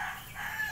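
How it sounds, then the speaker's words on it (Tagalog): A rooster crows in a single continuous call, moderately loud and a little distant, with no talk over it, while someone searches for a missing red chicken. "Nasaan ang manok?"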